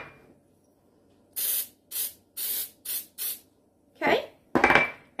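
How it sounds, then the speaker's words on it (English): Several short bursts of cooking spray hiss in quick succession onto baking pans over a sink, followed by a couple of clattering knocks, close by against quiet. "when I spray my pans, I do it over the sink"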